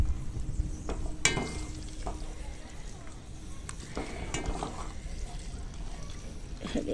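Eggplants fry in hot oil, a low, steady sizzle with scattered clinks and scrapes of a utensil lifting pieces from the pan. A few sharper knocks stand out against the continuous bubbling.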